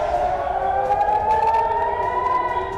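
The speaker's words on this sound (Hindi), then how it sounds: "बहरीन में सायरन की आवाजें सुनाई दे रही हैं।" A wailing air raid siren sounding in Bahrain during missile and air strikes in the Gulf, a steady rising tone with harmonics that fills the air continuously at moderate distance, with no talk over it.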